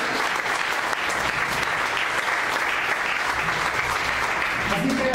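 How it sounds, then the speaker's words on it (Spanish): Church congregation clapping loudly and steadily in a dense, sustained round of applause for about five seconds, with no gaps and no voices standing out. "Denle una ofrenda fuerte de palmas a Él"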